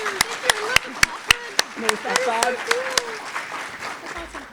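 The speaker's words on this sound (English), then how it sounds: "let's give Nancy a round of applause" A small audience applauds a speaker named Nancy, a sparse scatter of about a dozen separate claps spread over a few seconds, with a voice talking over the clapping throughout.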